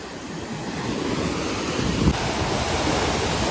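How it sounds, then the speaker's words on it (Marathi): Ocean waves breaking on a Mumbai shore, a continuous loud roar of surf with wind buffeting the microphone and a brief swell of crashing water partway through. "काय सुंदर लाटा दिसत आहेत"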